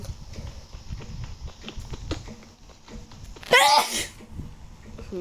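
A single loud sneeze bursts out mid-clip, standing above a background of rhythmic clopping, blocky footstep-like game sounds from Minecraft survival play.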